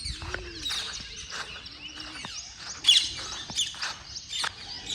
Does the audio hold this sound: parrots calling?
yes